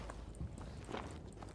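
Hooves of a called horse clip-clop at a walking pace in a Battlefield V match on PS4, a few soft thuds mixed into steady game ambience and low background noise.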